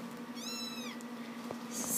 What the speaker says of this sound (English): You're my kitten right here.